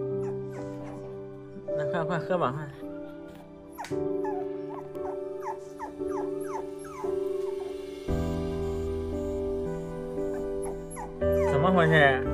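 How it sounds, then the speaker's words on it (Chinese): An abandoned puppy at a barber shop whimpers and yips in bursts of high, wavering cries, close by, while a person talks to it in between. "狗妈妈的宝宝也在叫啊"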